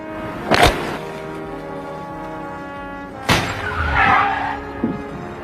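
A car halts in a film scene and its window shatters: two sharp crashing bursts about three seconds apart, the second followed by a brief scraping, grinding tail and a smaller knock.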